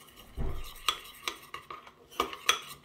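A utensil stirs melted chocolate mixed with oil in a bowl, giving a soft thump and then a series of clinks and scrapes against the sides.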